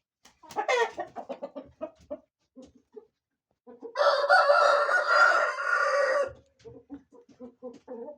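Young roosters crow, one long loud crow standing out in the middle, surrounded by scattered short clucks and calls, close and clear against a quiet background.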